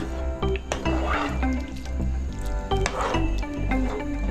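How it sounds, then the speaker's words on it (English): Coconut milk pours and drips into a curry pot with soft liquid splashes and gurgles, close and fairly quiet, in short irregular bursts. "Now, I'm gonna add in my coconut milk."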